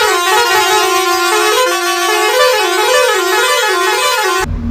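A truck's horn blares loud and close in a long sustained honk with a wavering, musical multi-tone pattern, cutting off abruptly at the end.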